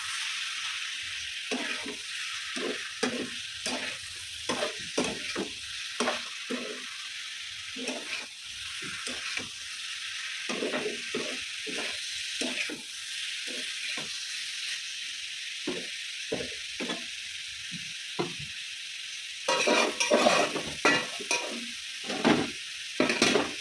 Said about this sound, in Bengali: এই যে লাল করে আলুটা ভেজে নিয়েছি